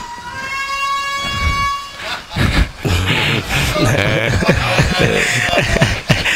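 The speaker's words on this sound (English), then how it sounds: "Air horn sounded like it was dying." A faltering air horn at a golf tournament blares briefly at the start, then gives way to someone talking over background noise.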